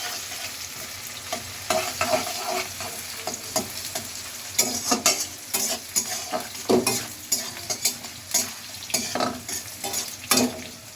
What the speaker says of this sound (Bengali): প্রথমে পেঁয়াজ কুচি, পেঁয়াজটাকে একটু ভাজবো, হালকা ব্রাউনি কালার করবো